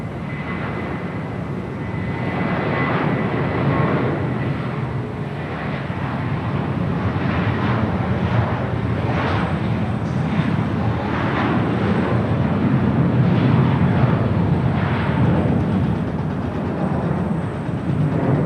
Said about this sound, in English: Next departure here on the south side, American Airlines Flight 4 heading to JFK.